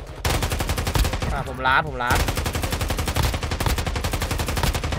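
Rapid automatic gunfire from a Warzone Mobile match rattles almost continuously, dense bursts close by, with a brief lull and a short voice in the middle.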